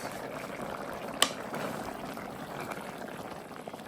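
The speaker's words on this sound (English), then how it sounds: "I'm going to let them boil for maybe 3-4 more minutes" Pasta bubbling in a pot of boiling water, a steady low rolling hiss of bubbles with one brief sharp clink near the start, fairly quiet and close, no talking.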